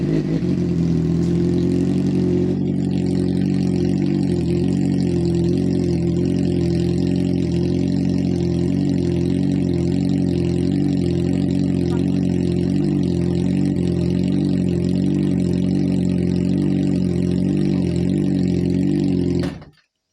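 A motorcycle engine runs steadily and loudly at close range, with a throaty, even idle and slight revving pulses throughout before cutting off abruptly at the end.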